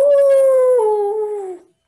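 A voice imitates a dog howl, one long sustained tone that slides gradually downward and fades out after about a second and a half.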